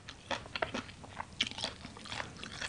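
Close-up crunchy bites and chewing of spicy papaya salad with sticky rice noodles and dried chilies, a quick irregular series of wet clicks and crackles with no talk.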